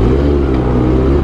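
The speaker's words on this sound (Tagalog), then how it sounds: "Backfire is real!" A Kawasaki ZX6R motorcycle engine roars loudly at close range in a brief, steady burst of revving.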